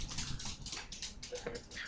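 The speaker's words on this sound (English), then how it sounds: "the dog won't shut up" A dog in the room giving short whimpers and yips, faint and intermittent, under quiet background noise and light clicking.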